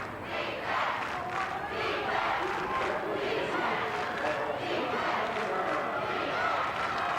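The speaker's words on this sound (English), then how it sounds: "The crowd's rocking down there" Loud, sustained crowd roar from a high school state championship football game, steady and dense throughout with no clear breaks, a large stadium audience cheering and yelling together.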